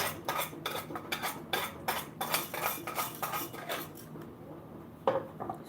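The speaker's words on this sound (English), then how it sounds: "I'm going to use the hand whisk" A hand whisk beats sugar and oil together in a bowl for a chocolate mint cake, giving rapid rhythmic metallic clinks and scrapes against the bowl that stop abruptly near the end, close and alone.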